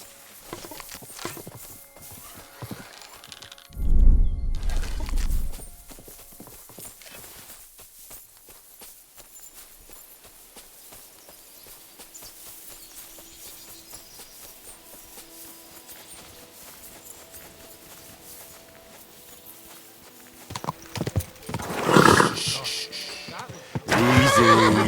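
A horse in the medieval game Kingdom Come: Deliverance II gives a loud snort and whinny, followed by a long quiet stretch of faint hoof and movement sounds, then a second burst of whinnying and stamping near the end.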